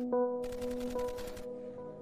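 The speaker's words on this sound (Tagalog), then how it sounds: "umalingaw-ngaw na ang sunod-sunod na pagputok ng baril." Gunfire rings out in rapid succession, a burst of closely spaced shots over a steady tonal hum, loud and reverberant for about a second before dropping back to the drone.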